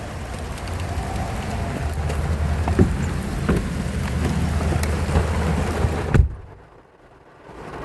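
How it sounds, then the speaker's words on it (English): Steady rain patters hard and close for several seconds at an abandoned church in West Virginia, with a low rumbling undertone, then cuts off abruptly. "now it started raining"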